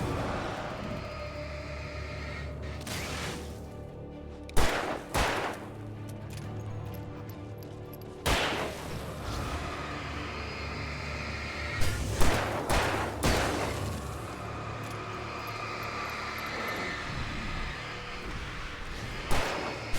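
Sharp gunshots ring out in the horror video game Alan Wake Remastered, several loud cracks spaced irregularly over an ominous rumbling game soundscape.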